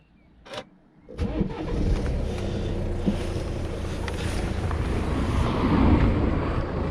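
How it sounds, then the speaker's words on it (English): Modern BMW with keyless start cranked during a battery test: a short click, a brief crank, then the engine catches and settles into a steady close idle hum. "So do a cranking test. Please start engine."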